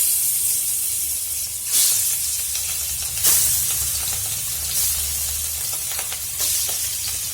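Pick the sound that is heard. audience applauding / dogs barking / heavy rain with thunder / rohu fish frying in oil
rohu fish frying in oil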